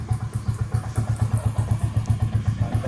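Yamaha Vixion motorcycle with a weak battery, being kick-started with one battery terminal disconnected; a steady rapid low thumping engine pulse runs throughout at moderate level, close by.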